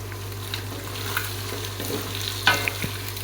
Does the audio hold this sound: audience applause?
no